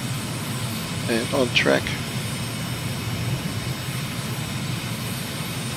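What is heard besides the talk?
aircraft engine climbing in a flight simulator video game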